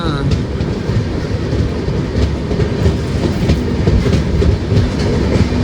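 Sabari Superfast Express on the Coimbatore–Trivandrum route running at speed, a loud continuous rumble of wheels with rhythmic clickety-clack over rail joints, heard close and steady throughout.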